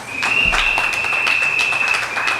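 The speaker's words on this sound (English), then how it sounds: "give them a round of applause" Audience in St. Augustine applauding three standing councillors, a short burst of close clapping with a steady tone running beneath it.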